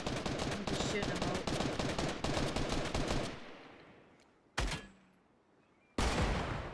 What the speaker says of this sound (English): I'm just shooting them